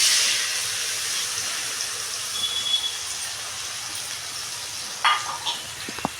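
Potatoes sizzling in a hot pan for sabudana khichdi: a steady, close hiss of frying throughout, with a few faint clinks near the end.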